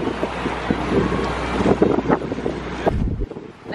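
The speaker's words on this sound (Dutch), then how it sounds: "We zijn lekker aan het varen met opa en oma en mama." Wind rushes over the microphone on a boat moving across the sea, a loud, steady blustery roar with churning water beneath, dropping away near the end.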